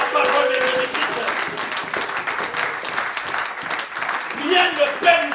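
A church congregation applauds, a crowd of clapping hands rising and falling in a dense patter, mixed with voices talking or calling out over it.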